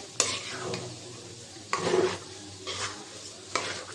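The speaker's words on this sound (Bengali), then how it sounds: "চালটা দিয়ে দিলাম ধুয়ে রেডি করে রেখেছিলাম নাড়াচাড়া দিয়ে দিব ভালো করে" Washed rice being stirred into beef in a pot for beef biryani, with several distinct scraping stirs and a soft background sizzle, fairly close and clear.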